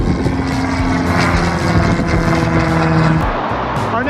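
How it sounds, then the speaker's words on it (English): Planes coming in to land near Lake Washington in Seattle produce a loud, steady propeller and engine drone that fills the whole stretch, heard from a bike trail. "I love watching the planes coming in for a landing here."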